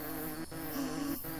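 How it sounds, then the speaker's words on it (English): Flies in the video game Hungry Lamu give off a steady, close, droning buzz with a wavering pitch, broken by two brief dips, with no voices. "I hear flies."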